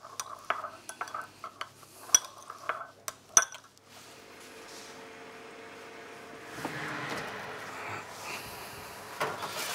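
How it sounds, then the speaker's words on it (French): Seasoning for vegetables is mixed gently in a bowl with a utensil: a run of light clinks and taps for about four seconds, then a soft, steady scraping and rustling stir with a few faint knocks. "Nous mélangeons délicatement cet assaisonnement que l'on utilisera pour les légumes"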